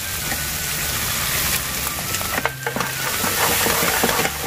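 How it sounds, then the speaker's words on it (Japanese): Sweet bean sauce, tianmianjiang, stir-frying in a pan for mapo eggplant, a continuous close sizzle and crackle with brief scraping stirs partway through. "ここで甜麺醤をしっかり炒めてやるね"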